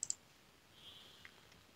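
Two quick, faint mouse clicks right at the start while selecting a link in a web browser, followed by near-silent room tone.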